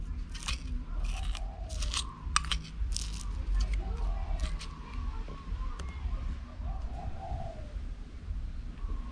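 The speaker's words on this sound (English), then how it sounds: "Green onion, chili pepper. Give it a little smash." Green onion and chili pepper being smashed for a dipping sauce, a series of sharp crunchy knocks in quick bursts early on, then quieter scraping over a low background rumble.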